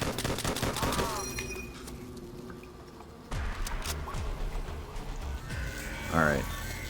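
Gunfire from a starting gun in Call of Duty Zombies on the Verrückt map: a string of sharp shots up front, then softer thuds and metallic clinks, with a player talking throughout.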